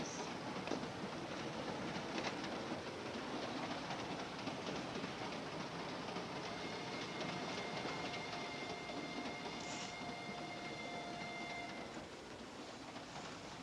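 Steady rumble and rattle of a moving train from inside a carriage, continuous and fairly loud, with faint clicking of wheels on the track, in the film Sherlock Holmes - Terror by Night.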